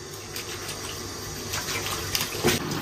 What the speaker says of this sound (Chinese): 牛排先给他洗一下。